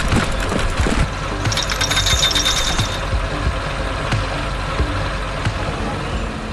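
Heavy excavator and bulldozer engines rumble steadily while shaping a pond in a 3D animated scene, with broad mechanical noise and a brief ratcheting clatter partway through, loud and continuous throughout.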